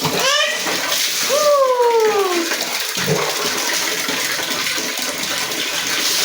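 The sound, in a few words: water poured over a child's head while bathing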